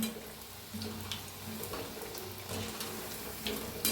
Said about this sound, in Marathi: क्रिस्पी होस तर चांगला असं तळून घेऊया